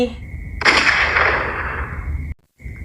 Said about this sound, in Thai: เสียงปืนดังกำปนาจนสถานไพร